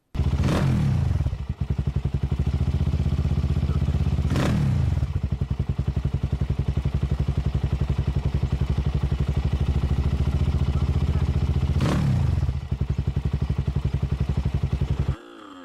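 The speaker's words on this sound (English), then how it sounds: "Akkor önindítós ilyen sound test." A large motorcycle fires up on its electric starter and settles into a loud, steady idle with a throbbing mid-range engine note, interrupted by several sharp starter or throttle bursts, recorded close.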